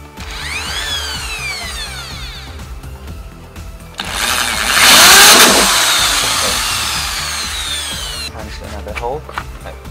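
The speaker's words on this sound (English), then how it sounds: "just drill another hole for the input air" A power drill bores a hole through a plastic bottle, rising to a loud burst of grinding whine mid-clip amid quieter handling noise and mechanical clatter.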